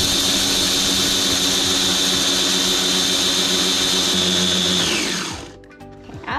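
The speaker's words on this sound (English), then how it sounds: "So just put that into the grinder, put the lid on, and then put it on high." An electric coffee grinder running on high grinds flax seeds with a loud, steady high-pitched whine that winds down and stops near the end, heard alone up close.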